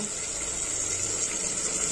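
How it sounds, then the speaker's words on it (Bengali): Water pours steadily while spinach curry is cooked, giving a continuous, fairly loud rush of liquid with no talking over it. "জল পড়ে গেল।"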